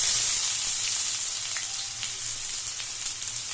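Chopped onion sizzles in hot oil in a pan after mustard seeds have been added, a dense, steady crackling fry with faint pops throughout, close and continuous.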